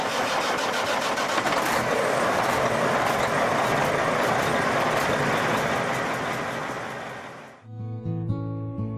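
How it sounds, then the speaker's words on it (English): A Western Star 6900 road train truck engine cranks and roars into a loud, dense running rumble that fades out after about seven seconds, followed by a brief musical passage. "Allister Roberts climbed into his 6900 Western Star and turned the key."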